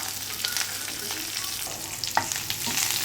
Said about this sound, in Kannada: ಸ್ವಲ್ಪ ಫ್ರೈ ಮಾಡ್ಕೊಳ್ಳೋಣ. ಲೈಟಾಗಿ ಫ್ರೈ ಮಾಡ್ಕೊಬೇಕು